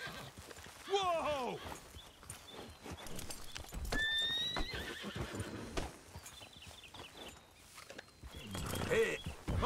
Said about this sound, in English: Will you get a hold of that horse?